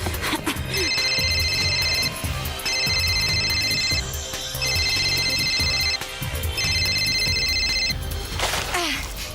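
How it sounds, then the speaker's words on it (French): A cartoon telephone rings unanswered in four repeated electronic trill bursts, evenly spaced and clear, over a busy animated soundtrack with background noise and a final whooshing effect. "Allez, Yumi, décroche."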